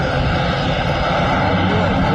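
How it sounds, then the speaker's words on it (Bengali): A Dash propeller airliner's engines drone loudly and evenly at close range during takeoff, a thick continuous roar as the airliner powers away. "বিমানটি ফ্লাই করে ফেললো"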